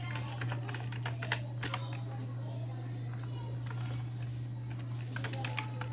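Rapid clicks of a computer keyboard as a website address is typed into accounting software, steady and close, over a constant low electrical hum.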